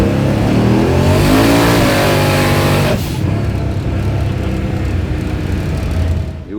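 Street-legal race car that starts by key and runs on pump gas or E85, its engine revving hard and loud up close, pitch climbing and then dropping into a steady rumbling idle.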